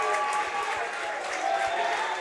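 A home crowd roars and applauds through a high school state quarterfinal baseball game, Tonganoxie Chieftains against Abilene Cowboys, as fans rise to their feet; the cheering is a dense, steady wash of noise that runs unbroken throughout.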